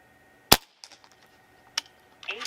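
A Crosman Prospect .22 regulated PCP air rifle fires once, a sharp, close snap followed by faint mechanical clicks and a distant pellet impact.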